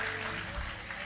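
A church congregation applauds a preacher, the clapping steady and moderately distant, with a hum of voices mixed beneath it throughout.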